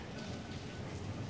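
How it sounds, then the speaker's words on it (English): Steady rain falling outside a hotel room with a balcony and sitting area at a spa hotel in Portugal, a soft continuous hiss with low rumble, unbroken and fairly faint throughout. "It's raining right now."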